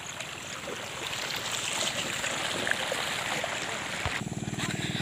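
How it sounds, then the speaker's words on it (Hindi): A water pump machine pushes water into a farm canal: a steady rushing, gurgling flow fills the scene, and a low rhythmic engine thumping comes through near the end. "तो गाइस मशीन चालू हो गया है, देखिए पानी आना शुरू हो गया है"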